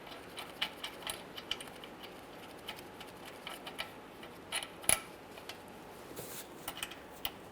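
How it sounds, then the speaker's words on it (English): Drive shaft on a 2007-2013 Chevrolet Silverado 1500 5.3L turned by hand while U-joint cap bolts are threaded in: faint, close, scattered metallic clicks, ticks and creaks in an irregular rhythm, with no talk. "spin the drive shaft as necessary to get each of the bolts started in"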